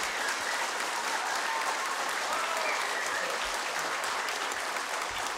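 Audience applause for the orchestra at a Christmas concert of a Tornedalen music club, a steady, dense wash of clapping from a full hall that holds at an even level for the whole stretch, with no voices standing out.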